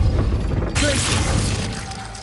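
A Glacius freezing spell is cast in Hogwarts Legacy, giving a sudden icy shattering crack that stays loud and bright for about a second and a half before tailing off.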